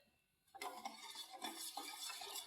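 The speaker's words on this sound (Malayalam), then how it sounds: "പാലൊന്ന് ഇളക്കി കൊടുക്കാം." Milk being stirred in a pan on the stove while mango ice cream is made, with sugar already added; a spoon scrapes and clinks against the pan in a steady, close, busy sequence after a quiet start.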